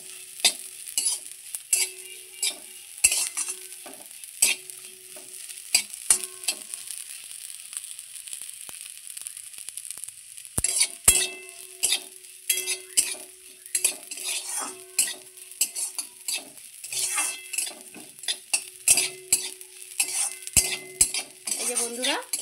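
Gobindobhog rice is stirred as it dry-fries in a pan, with a metal spoon scraping and clinking in a steady irregular rhythm and a soft sizzle underneath. There is a short pause before the stirring resumes.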